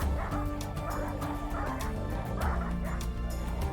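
A pack of dogs in the RimWorld video game bark and yip at an illegal puppy mill. The barking is dense and overlapping, with whimpers and yelps in a loud, continuous chorus.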